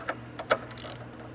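A hand ratchet tightening the front brake caliper bolts on a Venom X22R MAX 250cc motorcycle, a few quick close clicking bursts in a short series, alone without talk.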